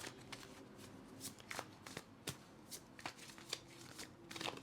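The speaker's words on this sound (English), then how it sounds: "when I was shuffling and putting the cards away or back into their places" Oracle cards being shuffled in quick, crisp riffles and flicks, close up, with no one speaking.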